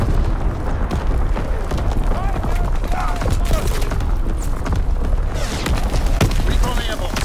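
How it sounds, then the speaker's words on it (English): Enemy artillery pounds the battlefield in Call of Duty WWII, with continuous rumbling booms and crackling blasts filling the scene at high volume while announcer voice lines play over the din. "Incoming enemy artillery. Get to cover."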